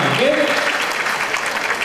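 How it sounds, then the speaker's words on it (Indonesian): Applause from a gathered crowd at a company event, steady broadband clapping lasting the whole moment, with a brief voice over the start. "Tepuk tangan lagi buat kita semua."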